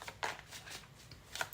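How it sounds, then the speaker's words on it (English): Tarot cards are shuffled by hand, with several crisp riffling bursts spaced irregularly and close to the microphone, and no talking over them. "You shuffle how you have to shuffle, right?"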